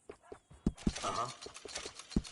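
Horse hooves clip-clop at a walk in Red Dead Redemption 2, a handful of uneven thuds close by, with a voice talking over them.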